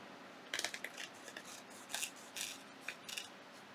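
Scissors cutting through a wax-stiffened fabric doily for a junk journal pocket, giving a quiet run of crisp snips and rustles in irregular bursts, close and alone.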